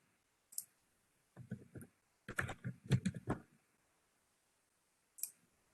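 Quiet computer keyboard typing comes in short bursts of soft clicks, with a brief tap first, a cluster of keystrokes in the middle and a single click at the end, set against near silence.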